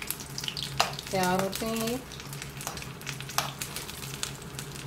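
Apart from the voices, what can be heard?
spring rolls deep-frying in oil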